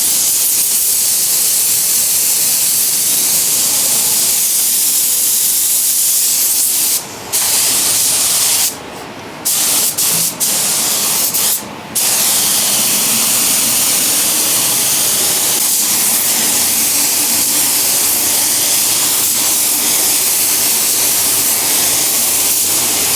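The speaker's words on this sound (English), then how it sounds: "I did 2 coats of sealer on the bumper this time around" Spray gun applying two coats of white sealer to the bumper of a Mitsubishi Evo 8 under rebuild, a steady loud hiss running almost throughout with a few brief pauses between passes.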